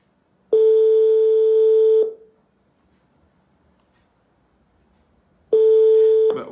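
During a phone call, a telephone line tone sounds in two long steady beeps of about one and a half seconds each, separated by a few seconds of silence. They are loud and clear, with no talking.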